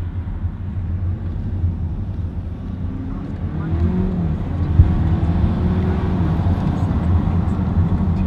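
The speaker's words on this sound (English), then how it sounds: "Let's hear that sound of this engine." A 2019 Audi A4 with an S-tronic gearbox, heard from inside while driving, gives a low, steady, muted engine drone with a slight swell midway and a faint voice in places.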